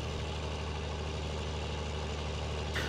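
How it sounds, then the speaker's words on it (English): A tractor engine idles steadily in Farming Simulator 19, a continuous low diesel rumble with droning harmonics, fairly loud and unbroken throughout. "This tractor sounds so good"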